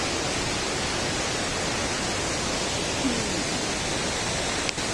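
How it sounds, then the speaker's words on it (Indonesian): Floodwater after heavy rain pours over a waterfall in a rural village, a loud, steady broadband roar of rushing water that stays constant throughout with no voices. "Air terjun."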